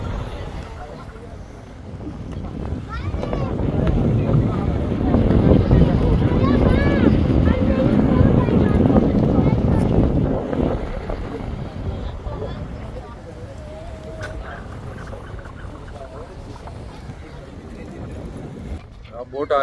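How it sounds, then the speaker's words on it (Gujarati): A RoRo ferry crossing between Bhayander and Vasai rumbles steadily under gusting wind buffeting the microphone, the engine and water noise swelling in the middle then easing, with people talking faintly over it. "બોટ હાલી આવે છે, એમાં જઈ રહ્યા છે વસઈ।"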